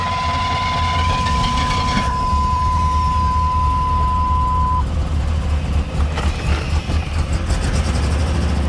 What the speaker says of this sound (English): I'm gonna crank it now. Fuel pump should engage.